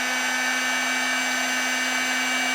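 A heat gun blows on heat shrink tubing over the end cap of an LED neon light bar. It gives a steady, loud, close whine and airy hiss with a constant tone, unbroken and with no talk.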